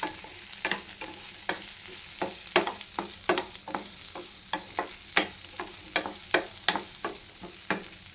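Onions sauté in a pan with a steady, soft sizzle, broken by rhythmic scraping and stirring strokes of a spoon roughly twice a second, close and fairly quiet, with no talk.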